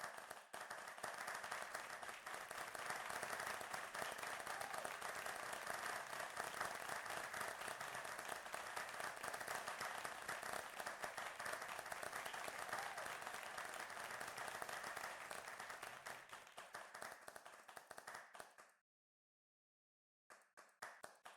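Synthetic applause effect triggered in an online meeting, a dense, continuous wash of many clapping hands lasting about eighteen seconds before cutting off abruptly to silence, then a brief resumption.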